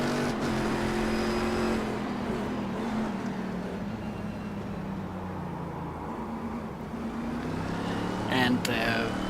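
Race car engine in the iRacing sim at Motegi: a continuous loud engine drone with shifting pitch through the lap, someone talking over it.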